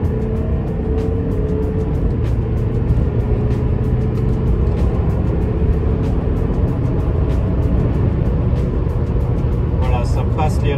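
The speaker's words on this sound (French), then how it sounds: "Donc là je passe en mode sport. Ah, tout de suite ça prend du régime moteur." Volvo XC60 engine accelerating after switching to sport mode, revs climbing to about 4000 rpm; a loud, steady interior engine drone with road rumble, while someone talks over it in French.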